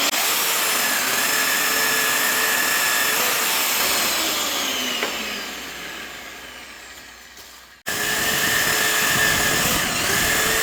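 A magnetic drill with an annular cutter grinds loudly through truck frame metal for several seconds, slowing and sagging in pitch, then stops and starts up again at full speed.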